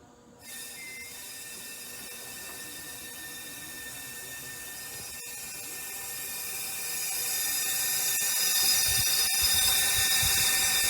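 Compressed air at 20 psi hissing steadily out through the carburetor of a 1967 Dodge Coronet, a broadband rushing noise that builds slightly louder toward the end, with no talk.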